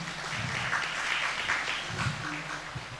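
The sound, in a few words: audience applause at keynote event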